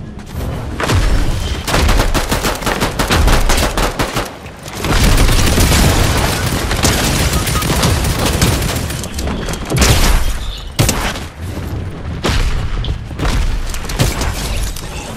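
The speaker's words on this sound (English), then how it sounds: "I just hit him a headshot with that freaking crossbow. It blew right on his face" In a video game, a crossbow bolt explodes on impact amid a barrage of loud, booming gunfire-like blasts that come in rapid, continuous bursts with brief gaps.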